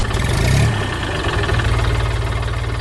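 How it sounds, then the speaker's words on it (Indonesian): A red tractor's heavy engine chugs and rumbles steadily nearby on a farm while hauling hay, with a brief louder surge at the start before settling into a rough, knocking drone. "Traktor merah sedang membawa jerami ke tempat yang sudah disiapkan. Suara mesinnya menggelegar"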